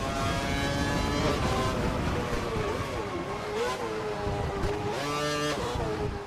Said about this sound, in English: Bumping the car over the curbs